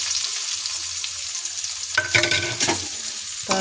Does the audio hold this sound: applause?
no